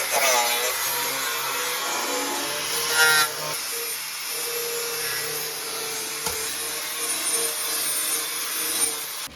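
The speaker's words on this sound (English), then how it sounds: "Hooking up the Flap Attack 3000, cleaned up behind this metal so we can weld on it." A flap disc grinder works over sheet metal near the rocker area of a Dodge D200 Sweptline crew cab pickup, giving a steady, loud abrasive whir and scraping that runs almost unbroken with slight swells and dips.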